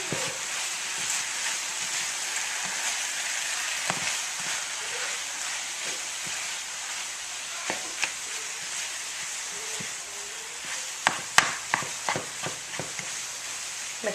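Vegan scramble cooking in a pan, a constant soft sizzle and hiss with scattered scrapes and taps of a utensil stirring, the taps getting busier toward the end.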